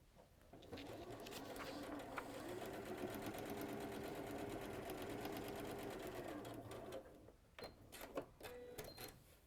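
A sewing machine runs steadily around the outside edge of fabric for a pet-themed project, a continuous close whirring hum lasting several seconds before stopping, followed by a few short clicks and handling noises.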